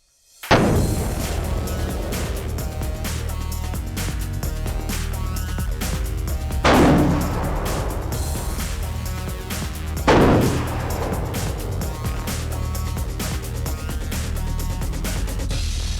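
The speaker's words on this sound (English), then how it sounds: "this was about a 40-yard shot" A handgun shot rings out during a hunt, a sharp loud blast at the start followed by a long rolling echo, with two more booming bursts later over a steady noisy background and no talk.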